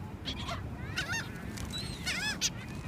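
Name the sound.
seagulls calling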